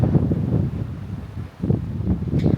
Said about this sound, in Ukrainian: Трошечки вітер.